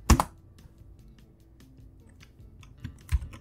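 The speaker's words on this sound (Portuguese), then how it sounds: "eu vou dar um Enter" A computer keyboard is typed on, a sharp loud key press at the start, then faint scattered soft key taps, ending with another firm press near the end; no voices.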